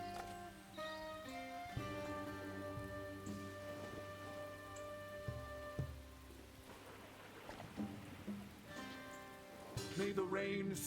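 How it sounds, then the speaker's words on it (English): Steady rain patters over a forest in the video game Echoes of Mystralia, a soft even hiss beneath layered sustained music tones, with a few louder splashy accents near the end. "May my rain fall to shield the leaves."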